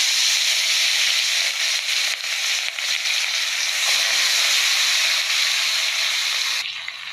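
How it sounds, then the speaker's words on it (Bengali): Fish frying in hot oil, a loud, close and steady sizzle and hiss that stays dense and unbroken throughout and eases slightly at the very end, with no voices. "মাছগুলো ভেজে নেবো ভালো করে।"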